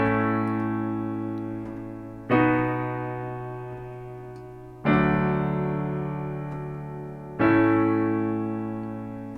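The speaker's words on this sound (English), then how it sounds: "I would play these chords in the right hand and play a root note in the left hand" Piano chords played in the right hand over root notes in the left, from a song tutorial: four sustained chords struck at a slow, steady pace, each ringing out and fading before the next, with no voices.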